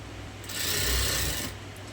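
A sewing machine runs in one steady burst lasting about a second as it stitches lace directly onto cloth, rising from a quiet motor hum to a dense whirring rasp and then dropping back, with no talking.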